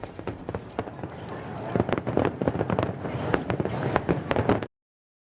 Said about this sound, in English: A sneak peek at the best way to see fireworks